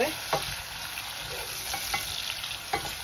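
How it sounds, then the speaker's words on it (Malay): Chili sautés in a pan with a steady, hissing sizzle, punctuated every second or so by sharp scrapes and clinks of a stirring utensil. "Tumis sampai naik bau"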